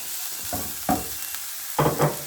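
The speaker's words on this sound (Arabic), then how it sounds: "نحط لي زونيون تاعي نقليهم شويه" Onions frying in a little oil in a pan, a low steady sizzle broken by a few short scrapes and bursts of stirring, close and without talk.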